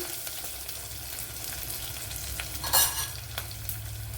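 Onion mixture frying in a pan for a cauliflower curry, a steady close sizzle with scraping stir strokes and one sharper clatter midway, no voices.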